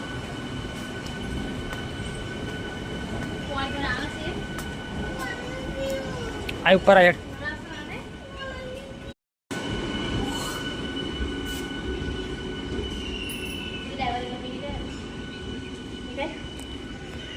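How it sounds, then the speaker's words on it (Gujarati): A DEMU passenger train runs along the rails toward Dakor, a steady rumble of wheels and carriage noise with a brief squeal, heard from inside the coach while people talk over it. "અમે જે ટ્રેનમાં બેઠા ને ટ્રેન જાય છે હવે."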